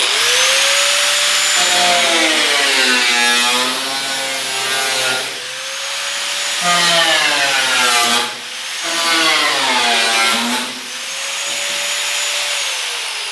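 A power tool cuts into the steel fender of a 1949 Chevrolet Fleetline, its loud whining pitch bending up and down in repeated passes across the metal, with brief pauses between strokes and no talking.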